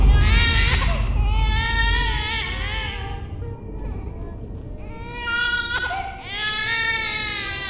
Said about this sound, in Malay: Bunyi yang bayi menangis ni memang legit bunyi bayi geng.